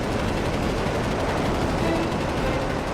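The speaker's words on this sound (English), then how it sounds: "A short burst of 30mm cannon fire." A dense, continuous burst of rapid 30mm aircraft cannon fire in a jet dogfight video game roars at full volume for several seconds, a harsh mechanical rattle with no pauses.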